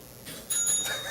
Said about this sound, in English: a bell will ring.